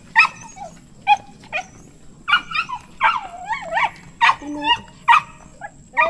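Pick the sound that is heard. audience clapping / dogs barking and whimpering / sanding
dogs barking and whimpering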